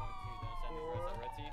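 Police car siren in GTA V roleplay, a wailing tone sliding up and down steadily, moderately close, while someone talks over it.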